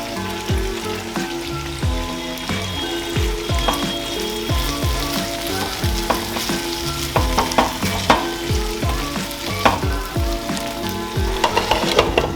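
Pieces of lemon pepper chicken frying in a pan with the leftover marinade masala, a loud, close, steady sizzle with frequent scraping and stirring knocks of a spoon against the pan.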